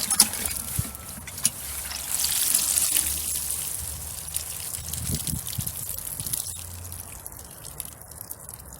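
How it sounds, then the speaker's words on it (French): Leeks in a garden bed being watered heavily from a watering can fitted with a rose, giving a steady close patter and trickle of water onto soil and foliage, running continuously without talk. "Un arrosage copieux à la pomme d'arrosage."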